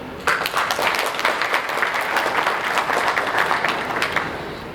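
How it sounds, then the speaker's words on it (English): An audience at the 7th CBR/CBID Africa Conference claps for a speaker: a dense burst of many hands starting abruptly, holding fairly loud and even, then thinning slightly toward the end. "let's appreciate him with a better clap."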